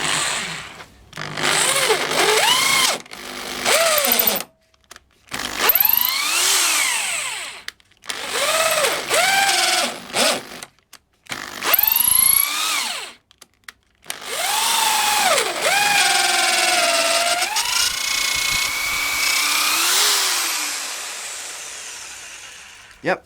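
A Black and Decker KR705K hammer drill bores a 12 mm bit into oak in repeated bursts, its motor whine rising and falling as it stops and restarts, then running longer and steadier near the end.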